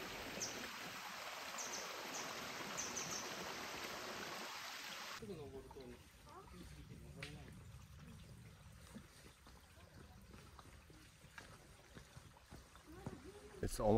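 Mountain stream rushing beside a hiking trail on Mt. Takao, a steady broadband wash of water that later softens as footsteps and voices carry through the forest.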